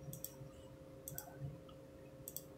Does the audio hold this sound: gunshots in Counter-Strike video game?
no